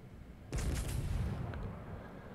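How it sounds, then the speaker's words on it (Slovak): A sudden heavy boom erupts and rumbles on for about a second, followed by a fainter muffled report, a distant cannon-like blast from a battleship's guns in a video game. "A tie sústrely pokračujú"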